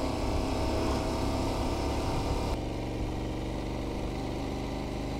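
Motorcycle ridden through Bali toward Ubud, its engine running steadily and close throughout with a continuous mid-range drone and road rumble, no talking.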